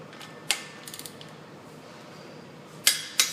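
A wrench works on the bolts of a Ford Super Duty front hub, giving a few sharp metallic clicks and ratcheting ticks with quiet gaps between them, close and clear, with no talk.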